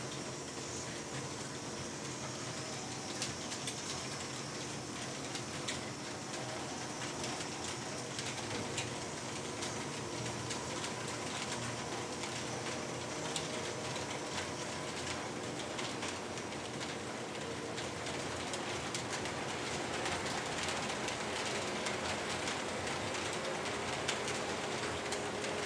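A small model train rumbles continuously along its track, a steady whirring clatter with faint clicks, close and constant, with no talking.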